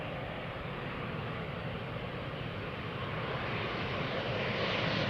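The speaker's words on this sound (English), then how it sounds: "Air China is coming in again to the runway with their A330-200 arriving from Chengdu" An Air China Airbus A330-200 airliner, in from Chengdu, arrives at the runway. Its engines give a broad, continuous roar that swells slightly toward the end, with no talk over it.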